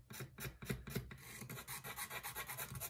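A guitar fingerboard's edges are rolled by rubbing, producing rhythmic close rasping strokes, slower and heavier at first, then quicker and more even, with no voices.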